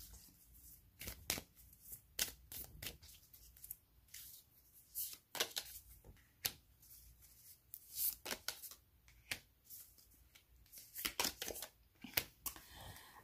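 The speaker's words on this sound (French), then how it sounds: "On prend 3 cartes pour la relation aussi." Tarot cards are shuffled and drawn by hand, with crisp riffling bursts and quick flicks in irregular clusters, close and fairly quiet, with no speech.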